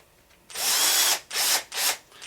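A bolt is driven into the clutch carrier of an HPI Baja RC car, heard as three close bursts of a whirring power driver, one long followed by two shorter.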